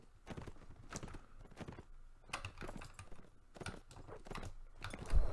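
Horse hooves in a Han Dynasty-era strategy game battle, an irregular series of clopping hoof hits at moderate distance, some louder than others, with no talk.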